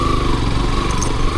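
Motorcycle engine on a rough road, a loud, steady, close drone with a rattling low throb and no voices.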